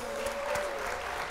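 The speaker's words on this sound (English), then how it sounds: "Keep the applause coming." Applause breaks out during a blackjack session, a steady broadband clatter of clapping with a faint sustained tone running beneath it, filling the short moment at a constant level.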